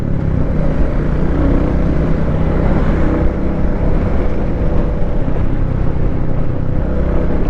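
A higher-cc motorbike revving as it is ridden, a loud continuous engine roar with a strong low rumble and rushing wind noise, steady throughout with no voices.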